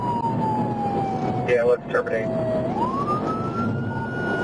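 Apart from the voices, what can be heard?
police car siren during pursuit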